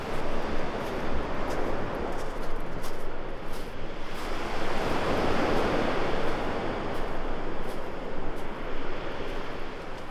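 Ocean waves wash steadily onto a beach at Lefkada, Greece, under dark, overcast skies, a loud continuous broadband roar of surf with wind mixed in and no voices.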